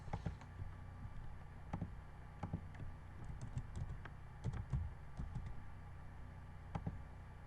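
Quiet, close keyboard typing as a username and password are entered, steady clicking keystrokes with occasional louder taps against a faint background hiss, no talking.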